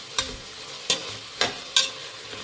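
Chopped tomato and vegetables stirred in hot oil in a pan, four distinct scraping stir strokes spaced about half a second apart over a soft steady sizzle, close and fairly quiet.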